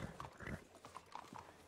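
Horse hooves clip-clop in an irregular, moderately close rhythm in a ranch roleplay video game, quiet and fairly steady over a muffled background.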